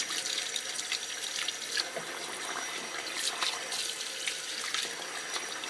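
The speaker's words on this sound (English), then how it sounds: "So I'm going to put some more water in there." Steady running water from a tap pours into a container, a continuous bright splashing stream with small drips and gurgles throughout.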